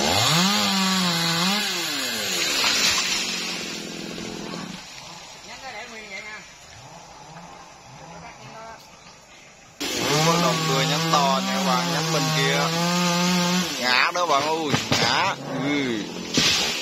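A G4500 chainsaw cutting a huge dipterocarp tree near a market, its engine revving and bogging in long rising and falling whines, dropping to idle midway before roaring back, with people talking nearby.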